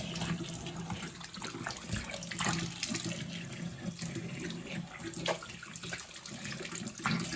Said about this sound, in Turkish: Avuç içine aldığı suyu yüzüne sürerek yıkıyor.